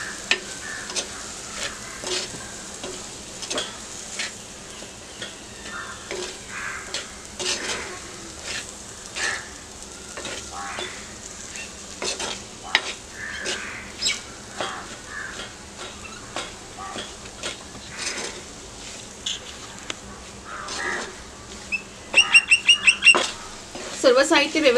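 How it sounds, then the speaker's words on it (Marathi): Egg kheema sautéing in a pan gives a soft, steady sizzle under repeated spatula scrapes and taps, with a few brighter clatters near the end. "सगळं व्यवस्थित परतून घेऊया।"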